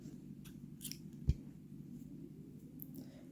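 Scissors snipping a strand of crochet yarn while making a woollen baby sweater, one sharp close cut standing out against a quiet room, with a few faint handling rustles.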